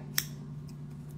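Scissors snip once through a foam mustache shape for a pencil topper craft, a single crisp close cut over a steady low hum, followed by faint small ticks.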